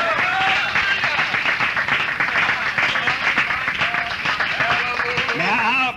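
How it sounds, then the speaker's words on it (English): A church congregation claps in praise, a dense, steady wash of hands over lively voices and whoops, loud and continuous throughout. "Give the Lord a big old praise clap."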